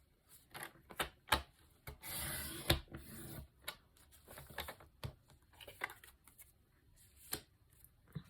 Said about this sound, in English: the Stampin' Up paper cutter is actually strong enough to cut through them all, like so.